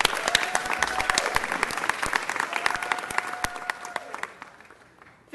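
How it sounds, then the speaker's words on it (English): Audience at a city council meeting breaks into a round of dense applause, steady for several seconds and then thinning out to scattered claps as it fades away. "Let's give him one more round of applause."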